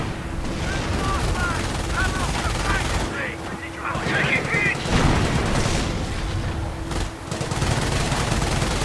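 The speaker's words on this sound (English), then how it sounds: "Notice the Panzer's slow rate of fire." Panzer tank cannon fire in Company of Heroes sounds amid dense wartime gunfire and heavy booms, with spoken voices mixed into the loud battlefield noise.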